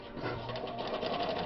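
A Japanese-made Riccar sewing machine runs a straight stitch in a steady, continuous mechanical whir with a fast rhythmic needle chatter, close and fairly loud throughout, with no talking.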